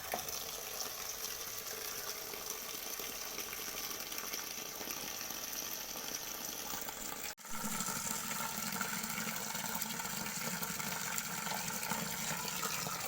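Plain tap water running steadily while something is rinsed, a faint, even rush with one brief dropout partway through.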